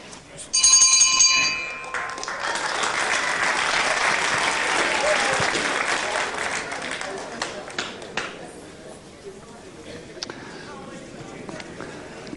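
A wrestling round bell rings sharply, close and loud for about a second at the end of round one, followed by crowd applause and cheering, with a commentator speaking over it.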